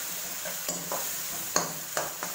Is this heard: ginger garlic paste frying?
yes